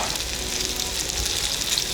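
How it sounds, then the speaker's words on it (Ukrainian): Potatoes with mushrooms frying in a pan, a loud continuous crackling sizzle with light stirring, close up and without talk. "Так смажити картопельку можуть тільки українці."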